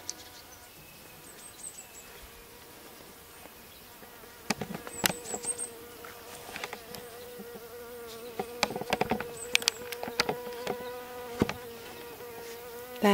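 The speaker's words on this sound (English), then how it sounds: "That is the sound of a bee." A bee buzzes steadily among other insect drones in an outdoor setting, the hum continuous and moderately loud with a few sharper buzzing passes rising over the background.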